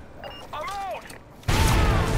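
Weapon reloading in Call of Duty MW3 Survival co-op on the Seatown map: a short mechanical clack after a brief voice callout, followed by a loud burst of gunfire and noise.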